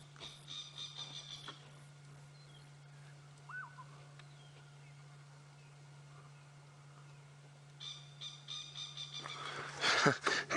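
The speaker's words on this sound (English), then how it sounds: "A very loud call for such a little bird." A small bird's loud, sharp calls on an early-morning safari drive, heard in short bursts near the start and again toward the end over a steady engine hum, with a brief faint whistle in between.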